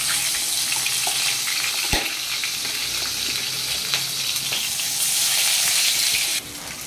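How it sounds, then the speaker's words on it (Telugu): A paste is dropped into a frying pan where chopped green chillies are already cooking, setting off a loud, continuous sizzle and spluttering up close, with a single knock near the start and no talking. "ఇప్పుడు ఈ పేస్ట్ వేసేసుకోవాలి మొత్తము."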